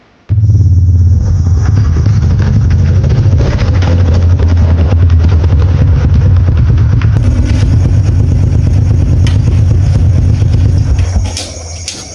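A motorcycle engine starts up and runs loudly and steadily nearby for about ten seconds with a thick low rumble, then cuts off near the end.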